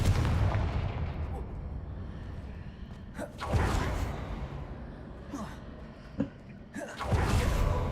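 Confringo fire spell explosions in the video game Hogwarts Legacy, several deep booming blasts with whooshing bursts spaced a couple of seconds apart over rumbling ambience.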